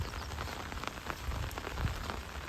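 Rain falls steadily on a surface at a farm where a millet crop lies soaking, a close, even patter of drops with faint thuds and no voices.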